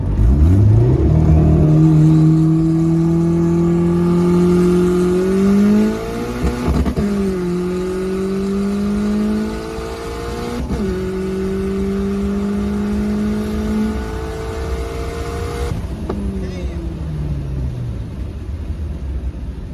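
A turbocharged Honda Civic EK pulls hard in second gear after a brake-boost launch, its engine note climbing loudly through several rising sweeps with brief dips at shifts, then easing off, close and alone without talk.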